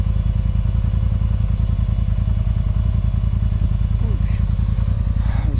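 Beside a steady, loud, rapidly pulsing compressor motor, air is pushed into a tire on a mountain repair job to seat the bead, the chugging continuous and close throughout.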